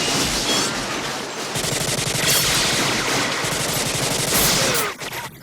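Rapid, sustained machine gun fire in a movie rattles loudly and continuously for several seconds, dense bursts with no pauses until it cuts off near the end.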